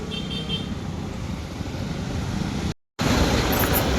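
A car rolls through busy road traffic, its steady, loud engine and road rumble carrying throughout, with faint horn toots early on and a brief dropout near the end.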